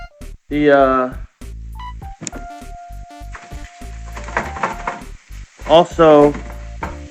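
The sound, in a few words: ground beef sizzling while being mixed in pan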